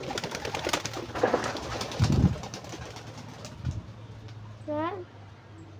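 A pet pigeon coos close by, a few soft low throaty coos with a rising warble near the end, while a person speaks over parts of it.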